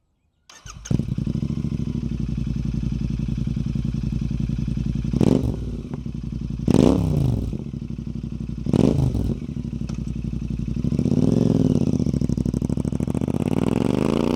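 Royal Enfield Interceptor 650 twin on a full exhaust system with the baffles removed: a loud, close, throaty idle thumping steadily, punctuated by several sharp revs that rise and fall, with a final sustained rev near the end.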